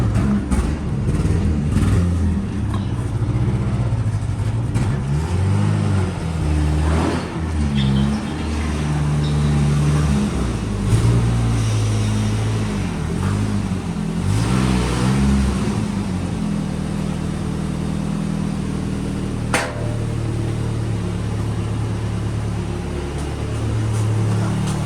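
Ford Ranger truck with a large turbo setup running and revving, a loud, steady engine drone with repeated rising and falling rev sweeps over about twenty-five seconds, no voices.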